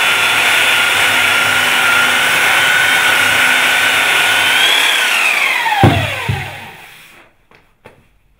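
A power sander working over glued wooden parts, a loud steady whir held close for several seconds before it winds down, followed by a few faint knocks.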